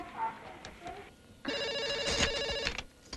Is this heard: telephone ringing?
yes